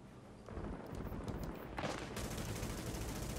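Dense, rapid gunfire from the video game The Division, continuous automatic bursts with a sharp extra crack partway through, fairly quiet overall and without talk.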